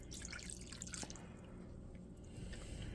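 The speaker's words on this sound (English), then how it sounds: "Pour the water in." Water is poured into a cooking pot while making dowfu ow, a faint steady trickle with a few small drips and splashes, quiet and close.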